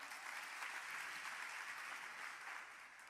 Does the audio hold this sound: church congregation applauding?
yes